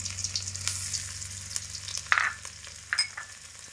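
Garlic and ginger paste frying in a pan, a steady soft sizzle with faint stirring scrapes and a couple of brief clinks, close and continuous with no talking.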